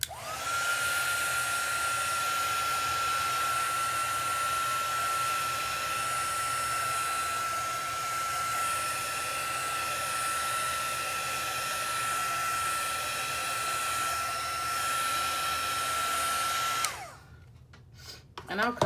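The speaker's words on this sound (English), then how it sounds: "And then take my heat tool to it again." A heat tool blows hot air over paint on a painted snowman journal cover, a steady whirring roar with a high whine held nearly constant for about seventeen seconds before it cuts off.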